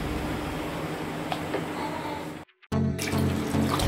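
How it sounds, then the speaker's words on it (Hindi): Water pours into a besan mixture for Punjabi kadhi with pakoras, a steady close splashing rush that cuts off briefly and then resumes, with no speech. "3 गिलास पानी भी हमने इसमें ऐड कर दिया है"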